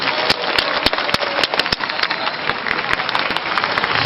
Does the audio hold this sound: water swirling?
no